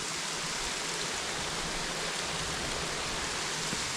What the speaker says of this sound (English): so this is the waterfall that we were coming to